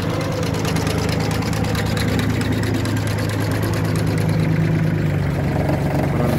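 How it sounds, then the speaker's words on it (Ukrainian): A tractor runs with a segment mower attached, producing a steady, loud mid-pitched engine drone with rapid mechanical chatter, close by and constant without pauses or voices. "Також під'єднали сегментну косарочку. Ось так вона робить."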